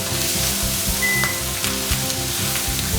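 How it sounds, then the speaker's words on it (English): Spinach sizzling and frying with onions and garlic in a pan, a continuous crackling hiss with rapid pops and faint stirring scrapes, close and steady throughout. "So now I just put my spinach in with my onions and my garlic."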